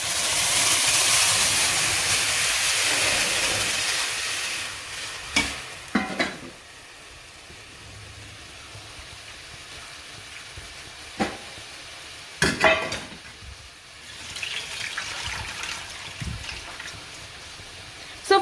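Tomato tipped into a hot pan of toasted tamarind for rasam, giving a steady close sizzle with brief stirring clatters and scrapes; the frying hiss starts loud and eases off over time.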